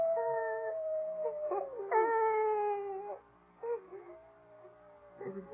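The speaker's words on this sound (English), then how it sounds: "I think it's that howling coyote that's bothering her." A coyote howls in a radio drama, long wavering tonal wails that rise and fall several times, fairly close and clear, with brief pauses between cries.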